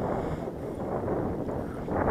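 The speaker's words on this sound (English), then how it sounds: "The old wind's getting up a bit now." Steady wind rushes across an open field, a broad continuous roar with buffeting gusts against the microphone and no voices.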